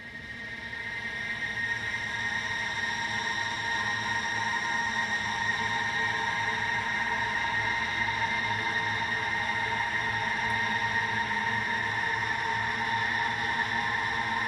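A dense, smeared drone of layered tones holds steady for the whole stretch, with slow subtle pitch shifts and no breaks or voices.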